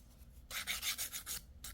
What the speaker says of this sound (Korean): 표면 튀어나온 것만 정리하고 샌딩 하시면 돼요